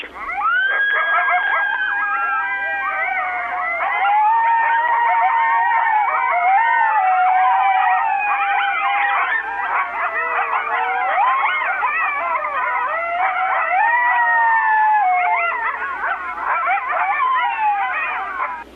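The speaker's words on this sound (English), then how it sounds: "the ominous stillness was suddenly shattered with bloodthirsty howls" A chorus of eastern coyotes howling and yipping together in January breeding season, wavering high-pitched wails overlapping continuously and loudly, with no pauses.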